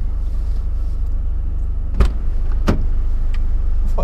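Someone gets into a car in a car park: close, sharp thumps and clicks of the door and seat stand out over a low, steady interior hum.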